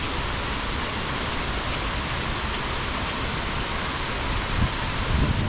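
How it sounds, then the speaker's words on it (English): Cascade waterfalls in Cascades Park, Tallahassee, give a steady, dense rush of falling water that fills the whole scene evenly, with a couple of faint bumps near the end. "This is the reason why they call this park the Cascades Park, because of these waterfalls"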